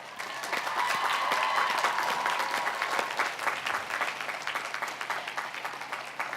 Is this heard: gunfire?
no